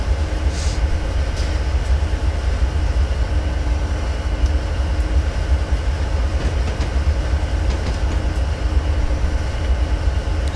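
Freight train in Train Simulator running from Victorville to San Bernardino, a steady loud rumble of wheels and engine with faint rail clatter throughout, no talking.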